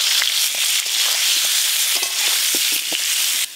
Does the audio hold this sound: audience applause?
no